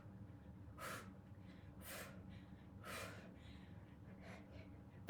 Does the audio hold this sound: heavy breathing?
yes